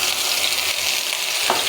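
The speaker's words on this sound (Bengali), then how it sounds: "মশলাটাকে আমি এবার কষিয়ে দেবো" Ginger, garlic and onion paste frying in hot oil gives a loud, continuous close sizzle that holds steady and hisses throughout, with no voices.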